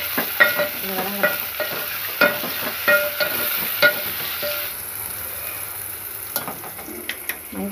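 Spices tempering in hot oil in a pan for coconut rice, with stirring and scraping clicks over a steady sizzle; the scraping fades after about five seconds, leaving a softer frying hiss with a few late taps.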